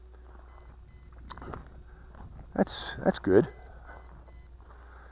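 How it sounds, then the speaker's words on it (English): Low-battery warning beeps from the controller of an MJX Bugs 7 B7 GPS brushless drone, sounding as faint, evenly spaced repeated tones that pause while a voice briefly talks and louder bursts of handling noise pass. "you get an annoying beep for the remainder of the battery"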